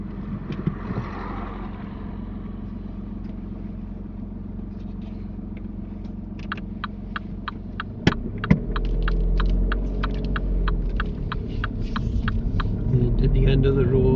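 A car pulls away during a driving test, its engine hum and rumble rising under low cabin drone, with a sharp bump midway and steady ticking, heard from inside the vehicle.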